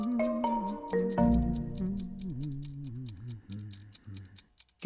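Chicky Timer, a kitchen timer watching over baking in the oven, ticks away steadily with regular close clicks, mixed with short musical tones.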